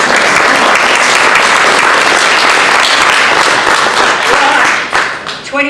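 A loud, close audience claps steadily for Ash at a NAIDOC week gathering, and the applause fades toward the end as a voice starts.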